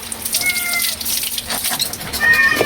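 Several cats meow and yowl at feeding time, overlapping high cries close by, with faint clatter and watery sounds around them.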